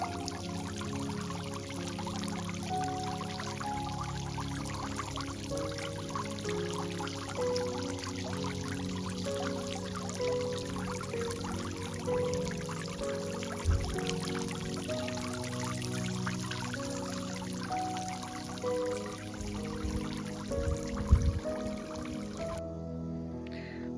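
Water pours steadily into a freshly cleaned outdoor fountain as it is switched back on, a continuous splashing wash with a low hum beneath and a couple of soft thumps near the end, no voices.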